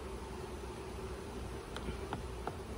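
Honey bees drone in a low, continuous hum during a hive inspection of a queenless colony, close and steady, with a few faint clicks near the end.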